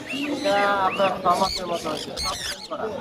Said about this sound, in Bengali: প্রচুর পাখি আছে কি পাখি বলো ভাই